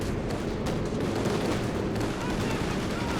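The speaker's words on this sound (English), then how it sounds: "you have the base MG now firing away" Base machine gun in Company of Heroes 2 fires steadily in a dense, continuous battle din, with rapid bursts blending into other gunfire and explosions throughout.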